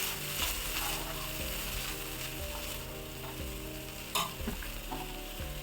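Butter and pav bhaji masala cooking in a pan, with a continuous sizzle and a steady low background hum, and a sharper spoon scrape near the end.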